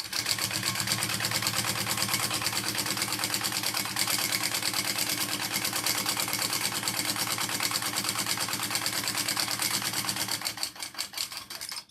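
A sewing machine with a fresh bobbin stitches an AnnaBelle shoulder bag, a rapid, even mechanical chatter running steadily and close up before slowing into a few uneven final stitches.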